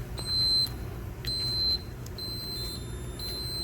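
A multimeter continuity test on a fuse gives steady electronic beep tones: two separate tones, then a longer repeating beep, close and clear, with no talk.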